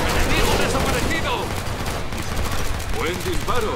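Rapid gunfire bursts from weapons in the co-op shooter Killing Floor 2, loud and continuous across the whole stretch, with game effects and faint voices mixed underneath.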